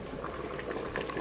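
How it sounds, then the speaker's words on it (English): Water at a hard, rolling boil in a pot for pasta bubbles and churns continuously, close and steady, with no voices. "This is a nice hard boil too, so you want your water to be a nice hard boil."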